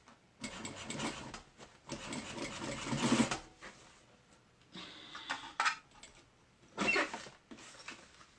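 Sewing machine topstitching a mini backpack, running in several short bursts with pauses between, moderately close and fairly quiet, with no talking.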